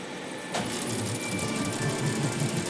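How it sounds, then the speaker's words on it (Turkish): An engine running inside a workshop starts with a sudden thump and settles into a steady, loud, mid-pitched hum with a faint rhythmic pulse. "atölye içinden gelen bir motor sesi Necmettin Erbakan'ın dikkatini çekti"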